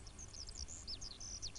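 A small bird gives a string of quick, high chirps and short trilling calls, faint against a low background rumble.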